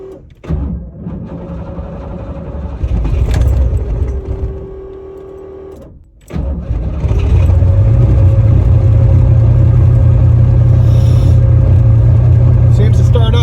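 A turbocharged Ford Mustang Foxbody cranks, catches briefly, falls quiet, then starts again and settles into a loud, steady running idle on a cold day in Ohio, close by, with talk over parts of it.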